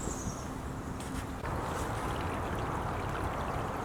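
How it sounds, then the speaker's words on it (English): Steady broadband rush of floodwater, loud and continuous, pouring through a culvert into a fishing pit close by. "Water's still coming into pit 4 here. This is the other side of the culvert."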